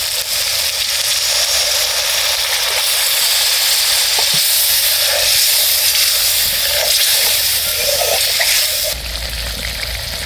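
Water is poured into hot, sizzling masala of tomato and onion for an egg poach curry gravy, giving a loud, steady hiss and frying crackle throughout, with a few faint stirring taps.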